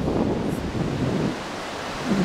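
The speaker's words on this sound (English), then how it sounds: "Are the waves big or little?" Ocean surf breaking on the beach at Coronado Island, a steady wash of broad noise with wind buffeting the microphone, swelling and easing slightly without any talk.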